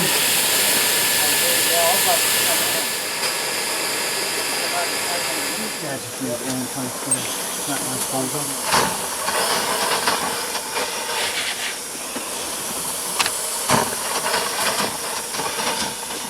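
Steam hisses loudly from a leaking gland on a radio-controlled Aster Flying Scotsman model locomotive, a broad close hiss that eases partway through, joined by mechanical clicks and spurts while people talk nearby.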